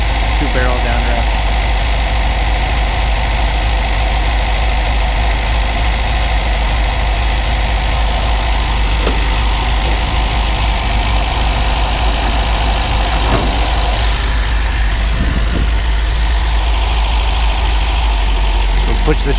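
A 1966 Sunbeam Alpine Series V engine with a Weber two-barrel downdraft carburettor idles loud and close, a steady, even low rumble that stays constant throughout.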